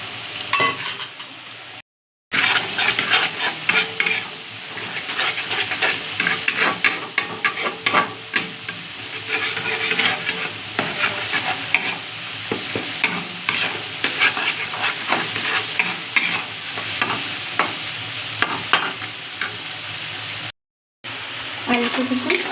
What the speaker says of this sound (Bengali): আলু ভাজাটা হচ্ছে, দেখুন।